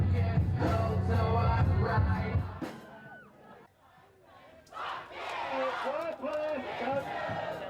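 A crowd of goth-dressed fans at a film shoot cheering and yelling loudly, with a dense roar of voices, then a lull with scattered shouts before the whooping builds again.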